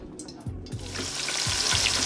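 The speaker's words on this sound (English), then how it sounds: "So I have my oil in here and my blended onion that I'm frying right now" Blended onion fries in hot palm oil in a pan for egusi soup, a steady close sizzle that builds slightly, with a few soft stirring scrapes.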